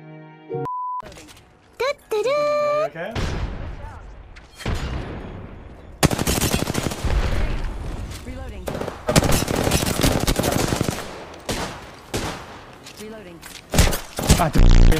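Rapid automatic gunfire from an Apex Legends match rattles in long, loud bursts broken by short pauses, mixed with beeps and game effects, while a player talks throughout.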